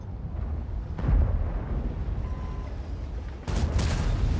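Two heavy tank cannon booms in a video game about two seconds apart, each a sharp blast with a rumbling tail, the second louder and followed by lingering crackle.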